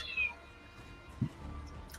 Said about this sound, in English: Oh, I can hear your cat.